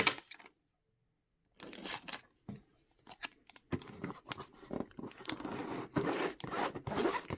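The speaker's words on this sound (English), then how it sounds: "I put extra tape over the box" Packing tape is pulled off the roll and pressed over the edges of a cardboard box in quick ripping, zip-like bursts, separated by brief near-silent pauses, close up and fairly quiet.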